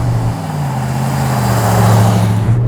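A 1990s Ford F-150 Lightning performance pickup truck idles steadily, a low, even engine drone holding throughout without revving, close and fairly loud with no talk.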